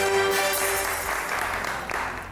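Studio audience applauding on the Hindi TV show Satrangi, a dense wash of many hands clapping at once that holds steady, then gradually tapers off.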